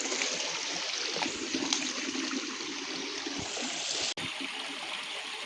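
A village stream in the Konkan runs on toward a river, a steady, close, full rush of flowing water that continues without a break.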